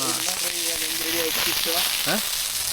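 Fish frying in oil on a flat tawa at an outdoor spot near Manchanabele Dam, a steady close sizzle and crackle running throughout while a voice talks over it.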